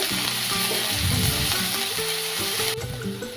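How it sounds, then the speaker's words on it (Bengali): Onion paste frying in oil in a wok, a loud continuous close sizzle with spattering crackle and occasional stirring, no voices. "ওই কড়াইতে আর একটু তেল দিয়ে দেবো, আর দিয়ে দেবো পেঁয়াজ বাটা। পেঁয়াজটাকে ভালো করে কষিয়ে নেব।"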